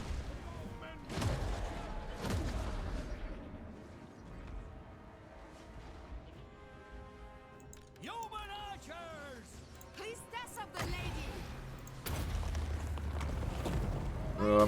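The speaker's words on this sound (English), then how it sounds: "giving us time to bombard them" Artillery bombardment on a Total War Warhammer battlefield with Bretonnian forces, heavy booms and crackling volleys rolling under a dense battle din, with voices calling out and a louder surge of impacts near the end.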